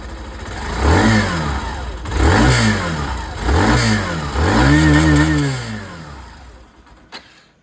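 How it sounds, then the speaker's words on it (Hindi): A Hero Glamour 125 OG motorcycle runs up close through its exhaust, revving four times in a row with rising and falling pitch, then settling to a lower idle before it cuts off, with no talk. "बाकी मैं जो एग्जॉस्ट साउंड है दोस्तों वो मैं आप लोगों को सुना दूँ।"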